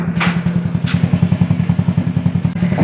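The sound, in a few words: GTO motorcycle engine running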